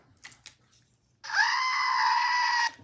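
A single drawn-out, high-pitched scream in the style of the Wilhelm scream sound effect, loud and lasting about a second and a half after a brief quiet pause.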